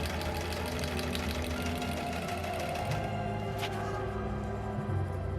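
A sewing machine stitches a test scrap, running in a continuous mechanical whir with a steady fast rhythmic knock, close and fairly quiet, with a brief change in pitch partway through and no talking.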